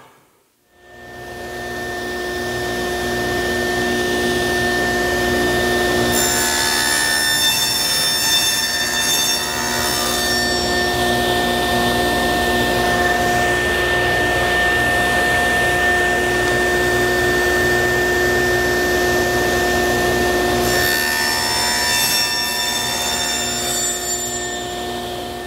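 A power saw cuts spline slots in the corners of a wooden shirt display frame, a loud steady whine running without a break for over twenty seconds, with brief shifts in tone as it bites into the wood.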